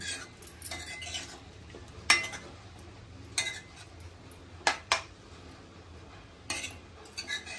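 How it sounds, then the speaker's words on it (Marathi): A spoon clinks and scrapes against a pan while eggplant and potato gravy is stirred, faint scraping punctuated by several sharp metallic taps spaced irregularly, with no talking. "चांगलं मिक्स करून आपण त्याला वाफेने शिजवून घेऊया."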